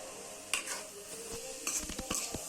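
A spoon stirring cooked cluster beans into masala frying in oil, with soft sizzling underneath and a few scraping clinks against the pan, quiet and close with no talking.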